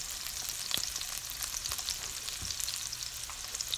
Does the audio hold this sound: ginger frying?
yes